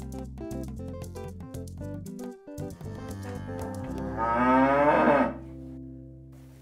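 A dairy cow moos in a cow shed, a long loud drawn-out bellow rising then cutting off, close by, over music and background farm sound.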